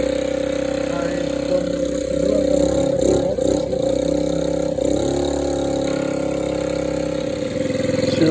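A 2011 Peugeot Kisbee 4T four-stroke scooter runs near the microphone, warming up with a steady idling putter and slight changes in pitch, while a voice talks faintly.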